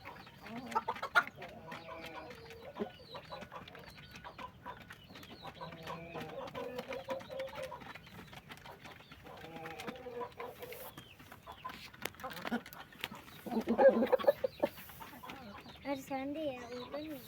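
Chickens and chicks cluck and peep around feed in a backyard garden, soft repeated calls close by throughout, with children and an adult talking over them.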